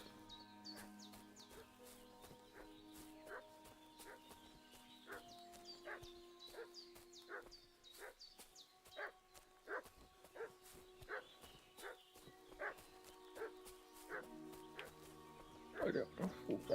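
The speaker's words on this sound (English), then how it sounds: "but I can hear a dog barking" Repeated dog barks from a dog in Kingdom Come: Deliverance II, short sharp yips at a steady pace over a medieval village ambience with some music, moderately close and growing louder toward the end.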